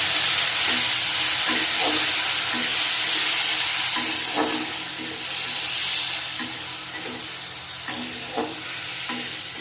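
Green tomato and potato curry being stirred in a pan, with loud continuous sizzling and hiss and repeated spatula scrapes at an uneven rhythm, close up and without voices.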